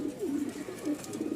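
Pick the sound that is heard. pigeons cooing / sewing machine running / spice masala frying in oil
pigeons cooing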